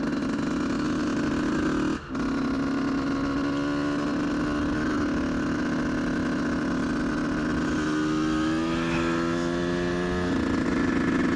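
A motocross bike ridden over an abandoned, rough cross track, its engine droning loud and close with a brief cut near the start and rising revs toward the end, with no talking.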